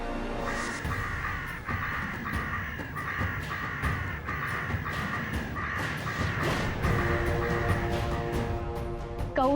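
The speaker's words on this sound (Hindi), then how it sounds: "कौवे तो आएंगे ही ना दादी जी।" Many crows caw in repeated harsh calls that overlap close by, drawn to a car with meat left on top. The cawing continues steadily with no one talking.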